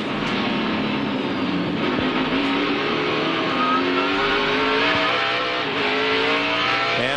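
Race cars at the 2002 Snap-On Tools 200 road race at Sonoma, engines droning steadily and loud as they sweep past at speed, with rising and falling engine pitch and no talk.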